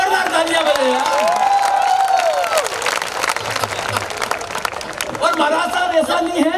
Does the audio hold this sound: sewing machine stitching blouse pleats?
no